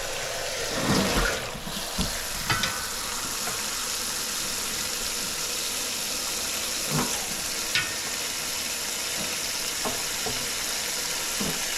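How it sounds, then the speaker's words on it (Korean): Blanched fatsia shoots are shifted into cold running tap water in a kitchen; a steady close rush of flowing water carries on throughout, broken by a few soft splashes and knocks. "바로 데쳐서 바로 흐르는 찬물로 옮깁니다"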